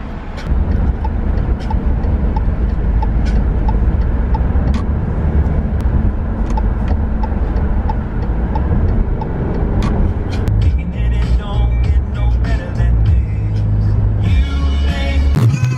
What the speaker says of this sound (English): There's traffic already here.